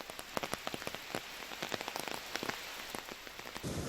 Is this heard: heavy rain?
yes